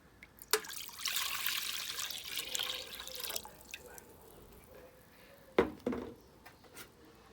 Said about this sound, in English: pour your water into